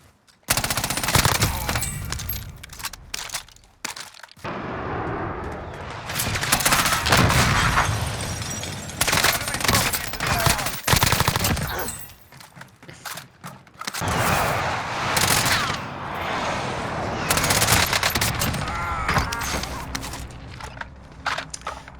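Rapid automatic FFAR gunfire from a video game comes in loud sustained bursts with short pauses between them.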